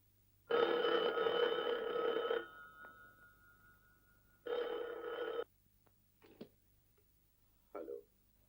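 An old-fashioned telephone bell rings in a long burst, pauses, then rings again more briefly, followed by a few soft clicks and knocks.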